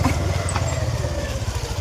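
A motorcycle engine idles nearby with a steady low, throbbing rumble, loud and continuous throughout.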